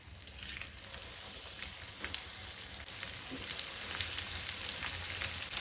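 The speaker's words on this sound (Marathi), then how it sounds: "तेल तापले तशें आमकां बांगडे घालपाक जाय ताचेर." Stuffed Goan recheado mackerel frying in hot oil on a tawa, a steady close sizzle that builds slightly louder over time, with faint crackles and no talking.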